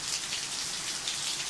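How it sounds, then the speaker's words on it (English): Hail falling outside an RV in Southern California's San Fernando Valley, a dense, hissing patter of small impacts on surfaces, steady and moderately faint, with no voices. "You can hear the hail falling and see it."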